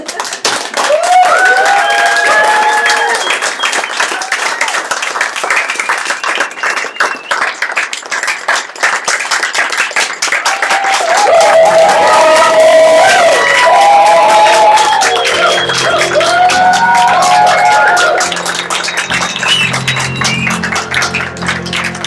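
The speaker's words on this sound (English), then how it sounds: "Big round of applause for Richard and Alina on the moon." A room full of people at a 26-hour improv fundraiser for Ukraine claps and cheers, with whoops and shouts riding over dense, continuous applause that swells again midway and stays loud throughout.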